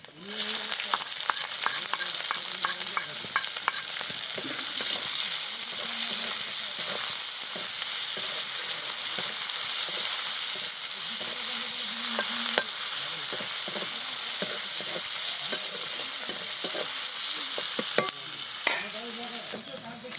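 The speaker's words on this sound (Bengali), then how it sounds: "এবার দিয়ে দিচ্ছি পেঁয়াজ কুচি।" Chopped onion frying in a pan with dried red chilli and whole cumin, sizzling continuously and evenly, with scrapes and soft clatters of stirring throughout.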